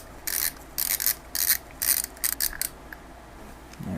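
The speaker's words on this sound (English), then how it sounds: "And I can start getting this lock nut off." A spanner tool working a clutch lock nut on a Honda CB350, heard as a run of short metallic ratcheting and clicking bursts in an irregular rhythm, close and clear, with no talk.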